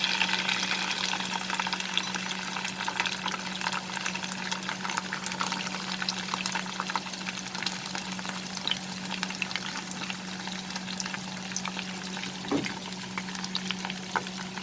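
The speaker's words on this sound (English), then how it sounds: "here I have heated 3 tablespoons of mustard oil, and the first step that we are going to do is we will fry the lady's finger in this oil" Okra (lady's finger) frying in heated mustard oil for a chicken and okra curry, a steady dense sizzle and crackle with occasional stirring clinks, close and continuous with no talking.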